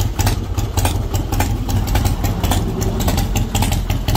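A Harley-Davidson Custom Softail Springer motorcycle idles steadily nearby, a continuous loud low engine rumble with an uneven pulsing beat and no talk.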